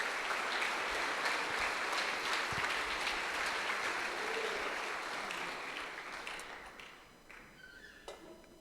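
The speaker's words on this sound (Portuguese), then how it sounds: "Vamos receber com uma salva de palmas esse homem aqui." A church congregation applauds to welcome a guest, dense sustained clapping that fades out toward the end, with a few scattered claps trailing off.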